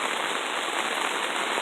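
Steady rain falls on a rainy morning at a wooded chainsaw milling site, an even, dense hiss of drops spread across the whole clip with no voices.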